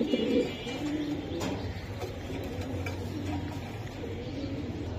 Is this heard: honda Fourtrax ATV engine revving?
no